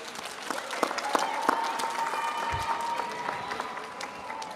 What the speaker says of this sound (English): give a round of applause to your family that's here to support you